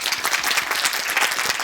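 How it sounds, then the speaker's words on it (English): A conference audience at a mobile tech event applauds a speaker from Uber, a brief, dense patter of many hands clapping at moderate level, with no one talking. "round of applause here."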